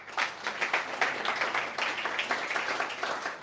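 Audience applause at a startup pitch event in a co-working space, a moderately loud, steady patter of many hands clapping that carries on for several seconds with no talking.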